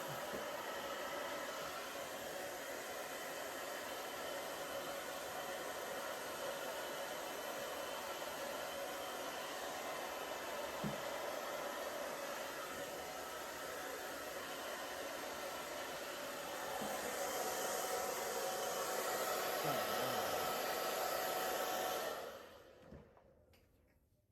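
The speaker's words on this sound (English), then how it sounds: "And the dryer again keeps the hair straight" A hair dryer blows a long-haired dog's fur with a steady, loud broadband whoosh for about twenty seconds, growing slightly stronger near the end before switching off.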